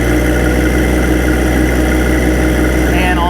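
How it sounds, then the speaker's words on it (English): A 2022 John Deere 2025R compact tractor's 24 horsepower Yanmar diesel engine runs loud and steady at raised throttle, a dense continuous drone up close that climbs slightly near the end. "very smooth sounding tractor, lots of torque, lots of power in that 24 horsepower Yanmar"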